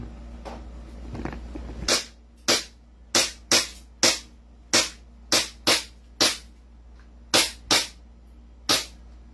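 Pistol shots crack at a shooting range, about thirteen sharp reports in an uneven rapid sequence, loud and close with a brief low rumble beforehand.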